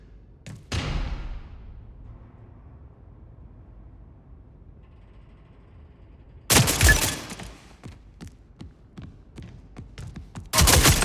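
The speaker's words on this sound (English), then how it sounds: "Flash bang." Flashbang grenade bursts in the shooter game Spectre Divide: a sharp loud bang early, then a long quiet stretch with faint clicks before two more harsh bright blasts near the end.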